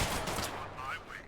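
Gunfire in the video game The Last Haven, a quick burst of several loud shots with ringing tails, heard close alongside game ambience.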